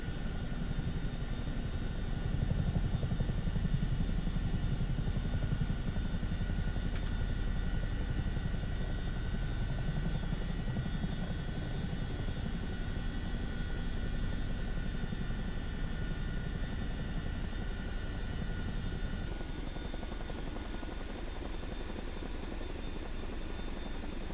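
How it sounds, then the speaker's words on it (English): Aircraft engine idling and taxiing on the ground in Microsoft Flight Simulator 2024, a steady, close, continuous drone with a slight shift in tone near the end, heard alone without talk. "Now we're able to taxi properly."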